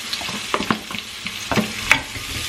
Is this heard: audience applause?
no